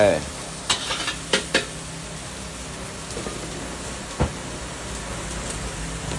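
Curry paste with chopped cardamom dry-roasts in a pan, giving a low steady sizzle broken by a few sharp clinks and scrapes of a utensil stirring against the metal.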